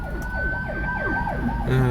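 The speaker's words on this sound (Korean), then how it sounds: "지금도 사방 그 앰뷸런스가 끝도 없이 돌아다니는데" Ambulance sirens wail through city streets, a rapid rising-and-falling electronic warble repeating several times, fairly close and loud over traffic noise, with a deeper tone entering at the end.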